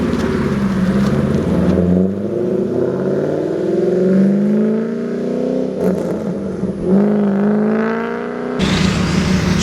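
Classic Chevrolet Malibu SS pulling away at a Houston car show, its engine note rising and falling through a couple of throttle pushes, fairly loud and close, with no talk over it.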